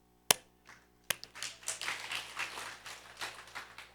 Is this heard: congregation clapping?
yes